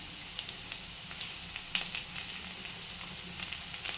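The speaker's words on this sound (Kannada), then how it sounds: "ಆಲೂ ಫ್ರೈ ಆದ ತಕ್ಷಣ ಇದಕ್ಕೆ ಈಗ ಕ್ಯಾಪ್ಸಿಕಮ್ ಸೇರಿಸ್ಕೊತಾ ಇದ್ದೀನಿ ನಾನು" Capsicum dropped into frying potatoes for a potato palya sizzles in a soft, steady crackle, with small sharp pops and stirring clicks scattered throughout and no voices.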